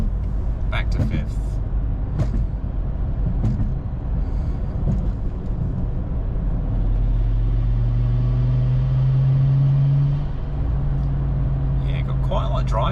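BMW N54 car with a newly swapped dual-clutch transmission and single-mass flywheel, driving at low speed, a steady droning drivetrain hum and rising whine continuous throughout, with road noise and occasional knocks.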